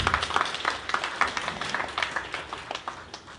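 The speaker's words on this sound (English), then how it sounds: "Give her a hand of applause" An audience applauds at an appreciation gathering: a steady patter of many hands clapping, fairly close and lively, with scattered sharper claps throughout and no talking.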